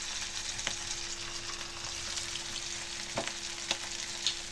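Chicken pieces fry in hot oil with a steady, close sizzle and crackle, broken by a few sharper pops and spits as pieces settle into the pan.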